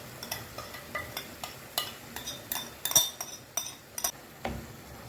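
A metal spoon scrapes and clinks against a pan while yogurt mixture is stirred into cooked tomatoes for an Indian-style dish, giving sharp irregular taps and scrapes close by with a faint sizzle underneath and no talking.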